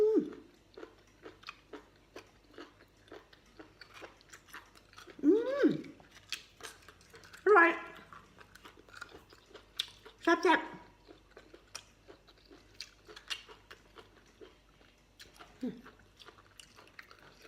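Chewy food with an oyster-like taste is chewed close to the mic in soft, wet, irregular bites, with occasional louder vocal murmurs and a voice talking at times.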